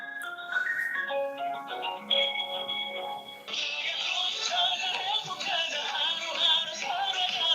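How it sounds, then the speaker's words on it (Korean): An outgoing phone call placed to a Doosan Bears baseball player during a baseball talk show: a melodic ringback tone plays steadily down the line, clear and alone, switching to a brighter tune partway through. "전화 한번 해볼게요"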